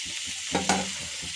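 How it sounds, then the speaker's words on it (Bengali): Malabar spinach fruit frying in oil with cumin seeds in a pan, a brief close sizzle with a sharp spatula stir or clatter midway. "এই যে পুঁই শাকের ফল ভাজি করতেছি।"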